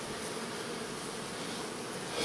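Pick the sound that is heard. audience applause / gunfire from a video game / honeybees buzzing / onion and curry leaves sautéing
honeybees buzzing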